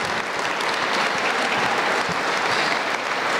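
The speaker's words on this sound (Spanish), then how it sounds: "Si son tan amables, un aplauso, por favor." An audience at an Alcoholics Anonymous event claps loudly and steadily, a thick continuous burst of applause filling the room from start to finish.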